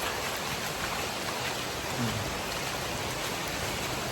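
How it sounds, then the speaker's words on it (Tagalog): Steady rain falls on a street in Dingalan, Aurora, Philippines, in a continuous broadband hiss with no voices, a dense even wash of drops throughout. "Sarap maligo sa ulan, no?"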